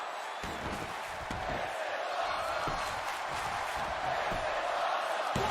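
A wrestling crowd roars after a Spanish fly off the top rope, a dense, sustained cheer filling the arena, with scattered thuds and shouts in the mix.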